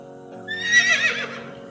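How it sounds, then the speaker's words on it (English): A mare neighs once, a shrill quavering whinny that swells and fades within a second, heard alone against a low, steady background drone. "mare"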